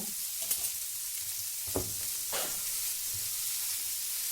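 Onion, cauliflower and tomato sautéing in a pan, a constant hissing sizzle with a few distinct stirring clanks and scrapes, moderately quiet and free of speech.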